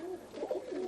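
Low, rolling coos from tippler pigeons inside their loft, a couple of soft warbling calls in quick succession, close by over a steady background hiss.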